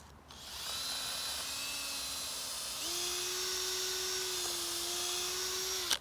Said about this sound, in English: holding the piece of wood in position and drill straight through here